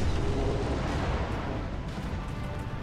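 Ship cannons fire in a pirate-style video game, a dense, rumbling roar of booming blasts that fills the whole stretch with heavy low-end noise, loud and unbroken, with no voices over it.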